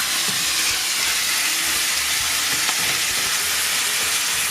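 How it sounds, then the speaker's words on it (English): Garlic frying in a hot pan while being stirred, a steady loud sizzle with scraping and crackling bursts throughout, no voices. "Move that garlic around."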